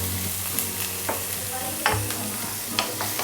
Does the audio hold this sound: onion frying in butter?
yes